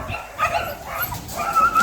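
A female dog at an animal shelter in Serbia whimpers and yips close by in short, high, broken cries that rise and fall over a couple of seconds.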